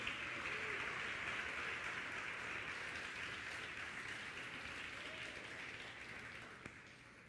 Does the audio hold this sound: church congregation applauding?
yes